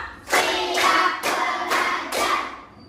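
In a classroom, a group of children claps together on a teacher's count, producing several crisp, evenly spaced group claps close by, loud and fairly sharp, ending in quiet.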